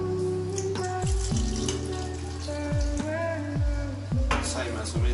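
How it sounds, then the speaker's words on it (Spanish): Water runs steadily into a can, a continuous splashing pour with a few clunks of the can being handled and background kitchen noise. "voy a seguir el primer paso, que es llenar un poco de agua la lata"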